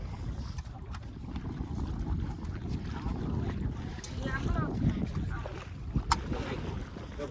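Boat moving on open water, with a steady low rumble, splashing and gusty wind buffeting the microphone; faint voices sit beneath the noise.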